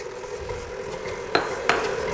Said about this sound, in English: we've got sugar and a stick of butter going in the mixer. We're going to turn that on kind of slow.